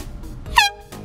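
Single short air horn blast tested outdoors on a golf course, loud and close, a brief sharp honk rising out of quiet background.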